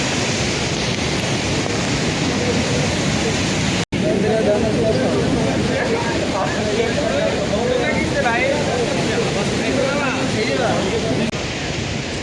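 A rushing mountain river near Mana village above Badrinath makes a loud, unbroken roar with some wind buffeting, broken only by a momentary dropout early on.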